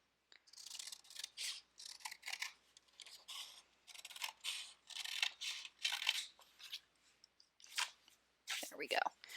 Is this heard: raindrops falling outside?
no